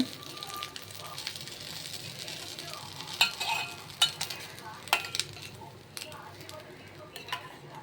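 A bread omelette fries in oil in a pan with a soft, steady sizzle, broken by a few sharp clicks of a spatula against the pan, close and fairly quiet.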